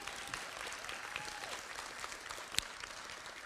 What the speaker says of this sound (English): let's have applause for everyone